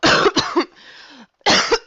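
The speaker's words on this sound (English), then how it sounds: "I've been fighting a cough" A person coughs several times in harsh, close bursts, with a brief raspy breath between them.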